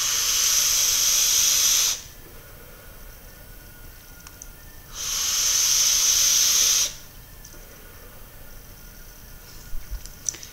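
An SXK Nebula RTA fired at 60 watts hisses with two long, loud airy draws of about two seconds each, separated by quiet, with a few faint clicks near the end.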